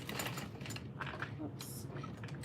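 Sewing machine top stitching a flattened seam on a fabric bucket bag, heard as a quiet rapid needle chatter in short bursts. A voice talks over it.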